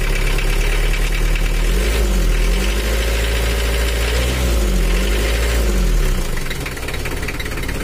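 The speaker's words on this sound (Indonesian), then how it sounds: "Suara kemreteknya itu benar kasar," An old Mitsubishi L300 van engine idles roughly, with a loud, close, steady low rumble and an irregular knocking clatter running through it, and no voices.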